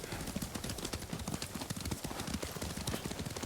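Rapid, steady clip-clop of a horse's hooves as it is ridden through countryside terrain in Ghost of Tsushima, close and continuous at a galloping rhythm.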